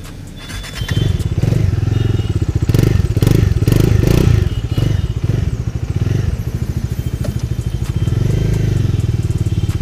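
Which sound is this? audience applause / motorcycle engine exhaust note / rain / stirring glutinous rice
motorcycle engine exhaust note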